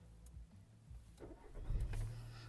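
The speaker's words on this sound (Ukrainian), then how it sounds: "Давайте запустимо двигун." A Volkswagen Golf engine with 147,000 km cranks and catches, rising into a low rumble that settles into idling, heard from close by with no talking.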